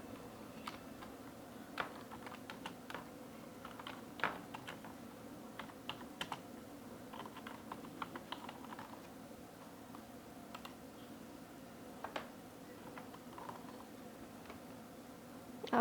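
Keys tapping on a computer keyboard in irregular, quiet bursts, fairly close, a text line being typed into CorelDraw with no talking over it.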